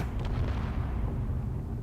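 A cannon in a ship-building video game fires at an armored ship, giving a deep, heavy booming rumble that rolls on for about two seconds before ending with a sharp crack.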